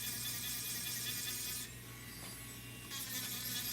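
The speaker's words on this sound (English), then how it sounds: "So I love these sanding drums." Small rotary sanding drum at fine grit smoothing a piece of jewelry, giving a steady close-up abrasive whir and rubbing that dips briefly mid-way, with no talking.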